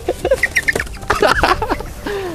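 Chickens cluck and squawk agitatedly, with several short calls and one drawn-out cry, while being caught for vaccination on a farm in Yogyakarta. Flapping and handling noises sound close by.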